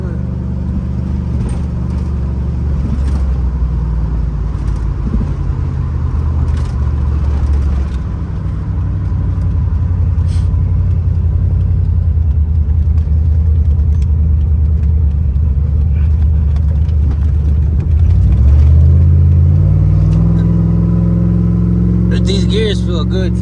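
A 2WD-swapped Yukon Denali with new gears drives along with a steady low engine drone and road rumble from inside the cabin, and a shift or rise in engine tone near the end.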